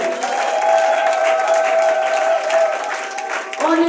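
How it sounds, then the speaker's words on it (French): Audience clapping at a Women's Day celebration in a hall, a steady dense wash of applause lasting the whole moment, with some voices mixed in. "Acclamez pour vous-même."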